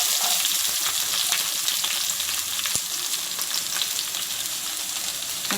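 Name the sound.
chopped shallots frying in a pan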